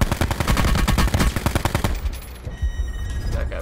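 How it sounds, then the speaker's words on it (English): Rapid bursts of automatic gunfire in Call of Duty: Blackout, loud and dense for about two seconds, then thinning into scattered, more distant shots amid game ambience. "Is that the same guy shooting?"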